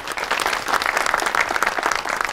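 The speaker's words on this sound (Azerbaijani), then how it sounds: "Sizin alqışlarınızla." A studio audience at a comedy show bursts into steady, full applause, many hands clapping continuously with an even, lively rhythm and no speech over it.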